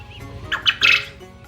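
A few short squawking quail calls, close and fairly loud, in quick succession.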